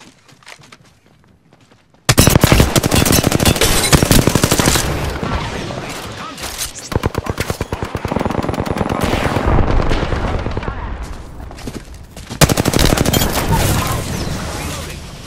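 Heavy gunfire in the battle royale game Apex Legends breaks out after a quiet opening, with loud rapid automatic bursts, booming hits and brief lulls, plus a little game speech mixed in.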